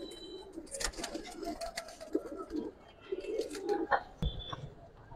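Pigeons coo softly and repeatedly at a busy pigeon market, mixed with other bird calls and background bustle, fairly near and steady over a few seconds.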